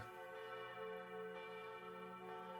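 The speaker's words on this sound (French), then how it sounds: "attends les cloches" Church bells ringing softly in the background in the video game Blasphemous 2, a faint sustained metallic peal with overlapping tones.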